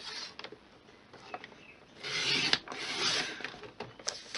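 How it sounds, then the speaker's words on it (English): Stampin' Up paper trimmer cutting through paper, a soft rasping slide that swells into one longer scraping stroke midway, faint and close. "I'm going to come in with my Stampin' trimmer,"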